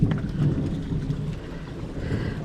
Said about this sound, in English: Whoa, rain and thunder and lightning